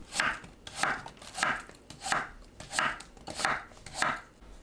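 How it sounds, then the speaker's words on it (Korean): A knife cuts radish into flat bite-size pieces for a monkfish clear soup, giving seven evenly spaced crisp chops against a cutting board at a steady, unhurried rhythm. "무를 한 입 크기로 납작하게 썰어줍니다"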